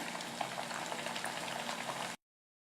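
Aloo pepper puri made with rajgira flour frying in hot oil, a steady dense bubbling and crackling that runs evenly for about two seconds before cutting off, close and moderately loud with no voices.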